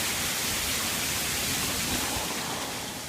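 Steady, dense hiss of heavy rain falling during a Southern California rainstorm, even and unbroken throughout, with no voices over it.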